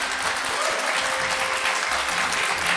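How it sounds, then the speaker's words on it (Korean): Steady, fairly loud audience applause fills an awards ceremony hall for a baseball defensive award, a dense continuous clapping from a crowd with no pauses. "여러분, 뜨거운 박수 부탁드립니다."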